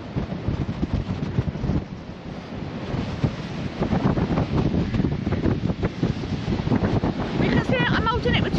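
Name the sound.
strong wind blowing into the microphone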